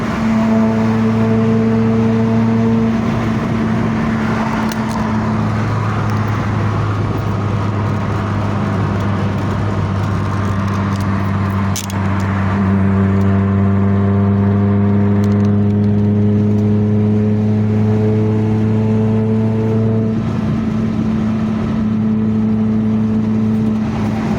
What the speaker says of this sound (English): I'm just gonna focus and drive till we get there